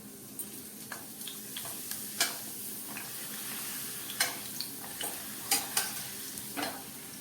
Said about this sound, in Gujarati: તેલ ગરમ થઈ ગયું છે હવે આપણે પાપડને તેલમાં તળી લઈએ